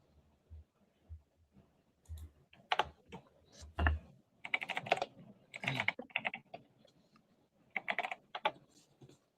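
Typing on a computer keyboard, with bursts of quick clicking keystrokes close to the microphone, broken by short pauses and with some faint low thumps underneath.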